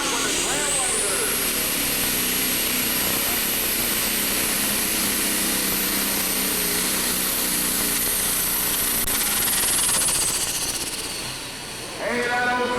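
A turbocharged pulling tractor drags a Superstar sled at a 10,000 lb tractor pull in Newton, Illinois, its huge turbo producing a loud, sustained high-pitched whine that holds steady before cutting off near the end.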